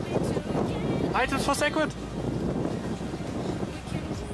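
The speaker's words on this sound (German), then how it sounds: "Das ist hier ein bisschen windig und lüftig." Wind blowing outdoors, a steady rumbling gusty rush against the microphone, loud and continuous, while a person speaks over it early on.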